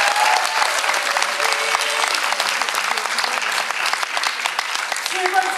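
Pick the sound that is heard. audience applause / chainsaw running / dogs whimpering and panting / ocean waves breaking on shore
audience applause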